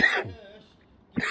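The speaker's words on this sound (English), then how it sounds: "See, I was that passionate about it, I started coughing." A person coughs twice, close and fairly loud: one short harsh burst, a pause, then a second burst.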